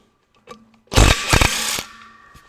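A power tool rattles clutch screws loose in a workshop: a single loud, close burst of roughly one second, with a couple of quick pulses in it, then a quieter tail.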